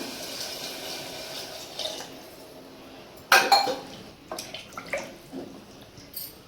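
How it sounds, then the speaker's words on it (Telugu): A large glass of water is poured into a cooking pot in a sudden splashing gush, followed by scattered drips and light clinks against the pot. "ఒక పెద్ద గ్లాస్ నిండా వాటర్ తీసుకుంటున్నాను"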